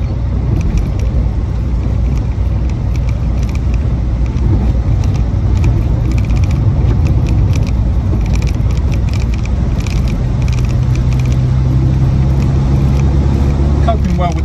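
A steady road rumble and engine drone come from an MG Midget 1500 as it is driven along a bumpy road, heard continuously from close by with faint rattles.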